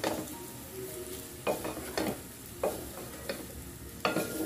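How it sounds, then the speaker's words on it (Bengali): Pasta tossed with salt in a pan, a soft background sizzle punctuated by about five distinct scraping, clinking stirs of a utensil against the pan, close and without talk. "লবণ দিয়ে নেড়ে পাস্তাগুলোর সাথে মিশিয়ে দেব"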